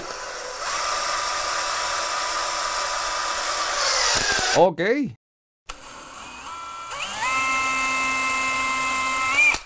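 A small drill with a tiny bit whines steadily while drilling for a screw during a kitchen renovation, pausing briefly midway before starting up again at a slightly different pitch; a short word is spoken during the break.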